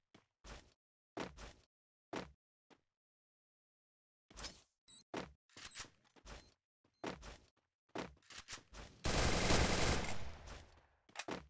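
Bursts of gunfire in the mobile battle-royale game Free Fire: several short volleys, then a longer sustained spray of automatic fire near the end, loud and close with brief gaps between.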